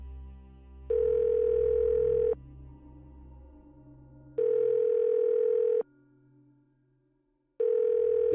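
A phone ringback tone sounds during a call in the game Geheimakte FBI: three long, even beeps with quiet gaps between them, alone and clear over a low background hum.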